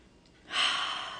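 A single deep inhalation, heard alone and close: a soft airy intake that starts halfway through, swells quickly and holds steady to the end.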